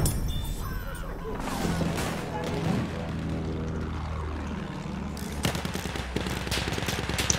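Sustained light-machine-gun fire in a shooter video game, a dense continuous rattle layered with other battle noise and bursts throughout, loud and close.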